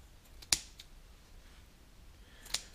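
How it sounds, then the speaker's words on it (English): Two quiet snips of scissors softening the edges of a cut piece, sharp isolated clicks about two seconds apart over a faint room hush. "Just give it a couple snips"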